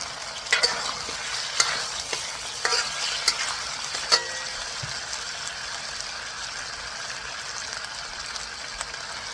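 Mongolian beef stir-fried with dark soy sauce on a butane stove, a steady hiss of sizzling oil with a cluster of sharp spatula clacks and scrapes early on, then continuous frying.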